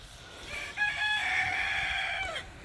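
A rooster on a homestead crows once at moderate distance, a drawn-out harmonic call lasting under two seconds over a quiet outdoor background.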